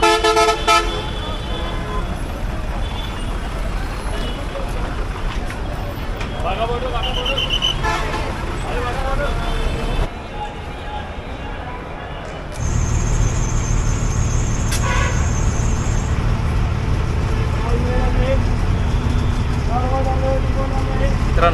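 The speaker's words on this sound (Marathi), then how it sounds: "आपण अमृतसरच्या बस स्थानकामध्ये येतो खूप मोठं बस स्थानक आहे" Traffic rumbles steadily through a busy Amritsar bus station. Buses and cars pass, and horns toot sharply several times over the constant din. People talk throughout, and the noise dips briefly in the middle.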